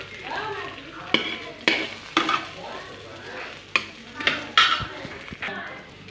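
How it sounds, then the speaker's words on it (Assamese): Potatoes and ridge gourd fry in a pan, a soft steady sizzle broken by several sharp metallic scrapes and knocks of a utensil stirring against the pan, close up. "আলু আৰু জিকাখিনি ধুনীয়াকৈ ভাজি ইয়াতে থৈ দিছোঁ"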